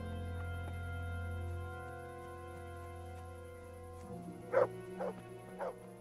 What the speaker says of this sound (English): He's just off barking again.